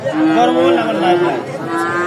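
A cow lets out a loud, drawn-out moo close by at a livestock market, with faint crowd chatter behind it.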